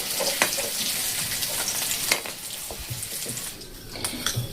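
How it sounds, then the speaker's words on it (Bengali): Boiled potatoes with turmeric fry in hot oil with a steady, close crackling sizzle, broken by occasional sharp clicks and scrapes as they are turned in the pan; no one speaks. "সেদ্ধ করা আলুগুলো আমি ভেজে নেব"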